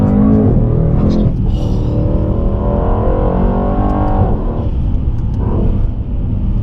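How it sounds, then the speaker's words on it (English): Stock 2018 Mercedes-AMG E63S with the AMG Performance exhaust revs hard, a loud, close, deep engine roar rising and falling continuously. "I got the AMG Performance exhaust on this, but it's still a stock car, right? And it sounds absolutely ridiculous."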